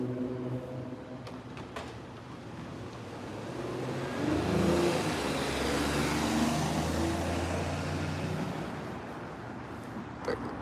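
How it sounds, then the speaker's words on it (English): A car accelerates along a San Francisco street at night, its engine swelling into a steady, loud roar through the middle of the clip over continuous city traffic noise, with no one talking. "The cop's gonna go chase that car."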